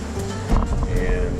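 Sailboat out at sea on the second day of an Atlantic Ocean crossing, giving a steady rush of wind and water that swells briefly midway and stays fairly faint and unbroken.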